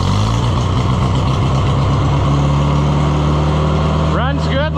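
A running Oliver 1250 tractor engine, freshly back from a fuel system cleaning, keeps up a loud, steady idle with a low throbbing pulse from start to finish, and a voice breaks in briefly near the end.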